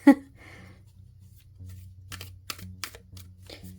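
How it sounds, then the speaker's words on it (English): A tarot card deck being overhand shuffled by hand, with soft papery riffles and sharp card slaps in an uneven rhythm, close and fairly quiet, with a faint low hum underneath. "I'm already dropping cards because I'm not very good at overhand shuffling"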